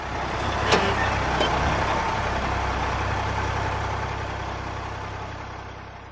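A large bus engine idles with a steady low rumble close by, loud and continuous, with a brief hiss or clank early on and no voices.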